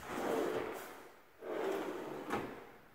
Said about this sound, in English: Self-closing drawers.